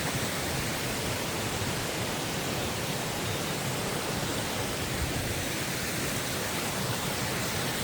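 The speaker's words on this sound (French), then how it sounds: "petite cascade encore" A small forest waterfall at the Cascade des Etrès pours in a steady, full rush of broadband water noise, close and constant for the whole stretch, with no voices over it.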